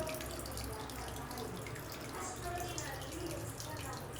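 Dirty wash water drains steadily out of a mini washing machine, a continuous soft splashing gush that runs without a break throughout, with faint talk in the background.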